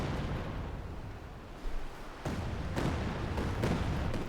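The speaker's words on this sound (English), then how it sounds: "More Katyusha fire here" Katyusha rocket artillery firing in Company of Heroes 2, a dense roaring barrage with several sharp explosive bursts in quick succession, loud and continuous.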